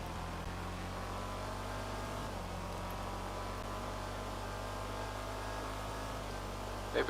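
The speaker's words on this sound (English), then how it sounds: "The sound that engine makes on the freeway." Car engine cruising on a freeway in the video game GTA 5 Online, a steady low droning hum with road noise, unbroken throughout.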